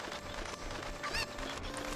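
A chicken from the video game Zelda: Ocarina of Time, a few short squawks and clucks over a busy, dense game soundscape with steady background noise.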